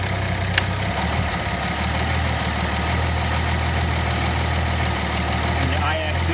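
A car engine idles steadily with the air conditioning on while the idle air control valve holds up the RPM, giving an even low hum throughout with a faint click early on.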